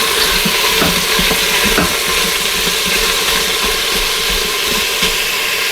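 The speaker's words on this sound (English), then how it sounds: "I'm going to continue to stir these around and allow them to fry and get sauteed and nicely browned" Sausages fry and brown in an Instant Pot while being stirred: a steady, hissing sizzle runs throughout, with small scattered pops and scraping clicks from the stirring.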